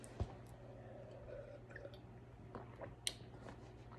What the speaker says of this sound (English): Let me take a sip of my water really quick.